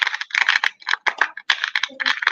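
A Firefly herb grinder crunches close and loud in quick irregular bursts of gritty grinding, with short pauses between turns.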